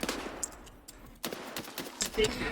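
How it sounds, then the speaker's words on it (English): Gunfire in the video game Escape From Tarkov, several sharp shots scattered irregularly across the moment, at moderate loudness with some sounding near and others more distant. "I'm being shot at now."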